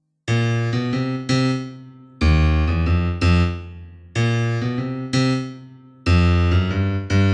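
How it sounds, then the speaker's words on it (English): Piano plays a rolling, propulsive left-hand gospel blues riff in repeated rhythmic bursts, loud and close, with bright chords ringing over a driving bass pattern. "Today I'm going to teach you a new left-hand riff called left-hand propulsion."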